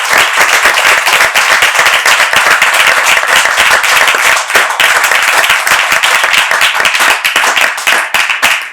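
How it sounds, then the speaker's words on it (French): A studio audience bursts into loud, sustained applause. Many hands clap densely and close by, with crisp individual claps across the whole stretch and no speech. "On peut les applaudir très fort."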